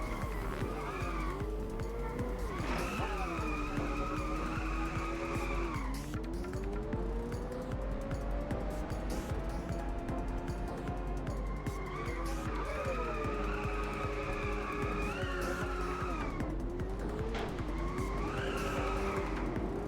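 Engines rev and tires squeal repeatedly as cars drift through corners in the racing video game Inertial Drift, with long rising and falling engine whines and screeching skids over about twenty seconds, no talk present.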